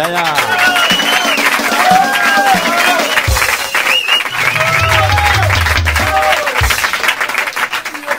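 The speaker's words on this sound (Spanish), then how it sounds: "Fuerte el aplauso" Audience applause and cheering from a crowd at a comedy show of drunk jokes, steady and loud for several seconds, with a voice speaking over it.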